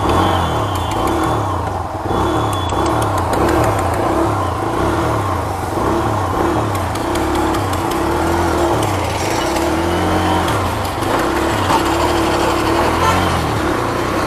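A Bajaj Freedom 125 CNG motorcycle's engine runs on petrol, a steady buzzing drone sustained throughout, with road and wind noise around it and some talk-like sound mixed in.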